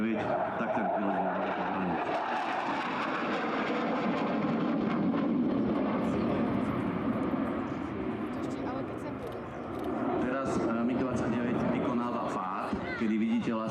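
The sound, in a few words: MiG-29 jet fighter flying solo air display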